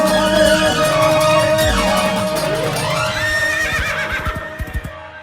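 A horse neighing sound effect plays within a Gujarati devotional song: one long, loud whinny rising and falling in pitch, followed by a few quick hoof-like clip-clops as it trails off.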